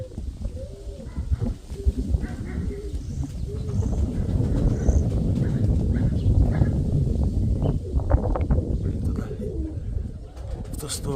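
Low, rolling pigeon coos repeat steadily through a busy outdoor backdrop, with other birds and faint voices mixed in.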